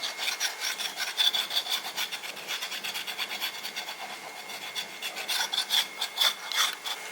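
Knife scraping the skin of a snake gourd, a close, steady rasping rub repeated in quick strokes throughout, bright and scratchy, with no talking.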